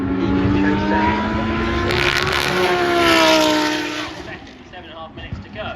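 GT race cars race at Brands Hatch, engines roaring loudly with rising and falling pitch as they pass close by, gradually fading away, under continuous race commentary.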